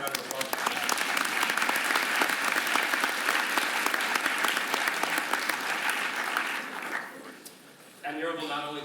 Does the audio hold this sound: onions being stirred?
no